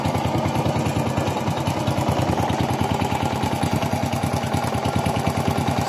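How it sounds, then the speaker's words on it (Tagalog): Honda Wave 100 motorcycle engine idling with valve tapping and timing chain noise, a steady, loud, close mechanical chug with a rapid regular ticking rattle throughout. "parinig ko man sa inyo ang ingay ng kanyang makina"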